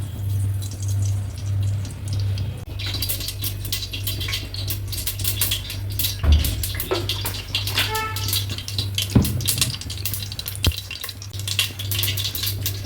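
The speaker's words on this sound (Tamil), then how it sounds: "கடுகு வந்துட்டு பொரிஞ்சிடுச்சு" Mustard seeds splutter in hot oil inside a pressure cooker, scattered sharp crackles and pops that grow busier partway through, over a constant low hum.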